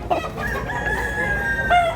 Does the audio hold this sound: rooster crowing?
yes